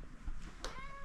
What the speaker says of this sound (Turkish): Hep diyorum, kediler beni her yerde buluyor.